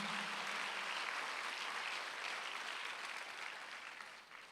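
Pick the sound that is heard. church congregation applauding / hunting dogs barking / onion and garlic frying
church congregation applauding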